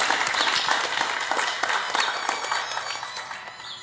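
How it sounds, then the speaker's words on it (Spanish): A crowd applauds raffle prize winners at a seminary prize-giving event, with brisk, dense clapping that stays fairly loud and then thins slightly toward the end. "Un fuerte aplauso,"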